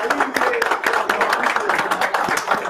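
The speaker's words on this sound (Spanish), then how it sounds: "vamos a darnos un aplauso nosotros mismos" An audience at a gathering in Houston, Texas applauds itself, a dense wash of clapping hands with sharp individual claps and voices mixed in throughout.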